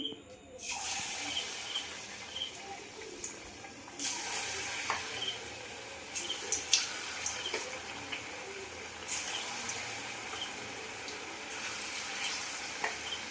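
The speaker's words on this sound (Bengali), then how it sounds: "একটু সিমে দিয়ে ভাজতে থাকবো তেল পুরো গরম হয়ে গেছে আমি একটা একটা করে ছাড়ছি" Chicken pakoras frying one by one in fully heated oil, a steady dense sizzle that swells in bursts as pieces drop in, with scattered crackles and pops, close and continuous, no talking.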